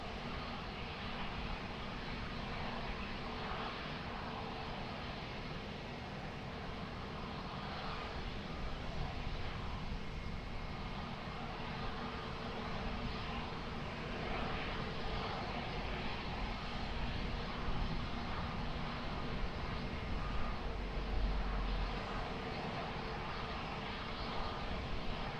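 Airplane engines rumbling steadily at Lisbon Airport as a plane lands on runway 20, a continuous broad roar at moderate distance that swells slightly toward the end.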